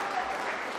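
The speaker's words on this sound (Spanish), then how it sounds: "Arranca los aplausos" Short burst of crowd applause from spectators at a Canarian wrestling bout between CL Guamasa and CL Unión Tetir, steady and somewhat distant for under a second.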